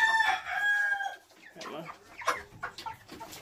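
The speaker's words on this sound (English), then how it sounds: "So these are the chickens" Rural Jamaican farmyard chickens: a rooster crows loudly at the start, followed by scattered nearby clucking and fowl calls, with some faint background voices.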